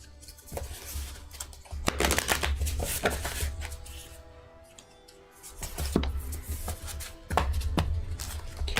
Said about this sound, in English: Let me shuffle it up again and we'll see what your hubris is.